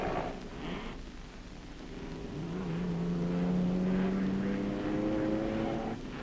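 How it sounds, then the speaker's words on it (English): A race car engine revs and roars during a push start at the 1960 Acropolis Rally, the pitch rising steadily as it pulls away, loud and sustained over crowd noise. "the roaring, racing, revving push start, and this amazing driver takes off in a tearaway race against the stopwatch"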